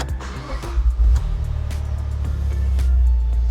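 A turbocharged car engine is fired up, a low rumble that swells into a steady idle with a heavier surge near the end, close and fairly loud, with light clicks and handling noises over it.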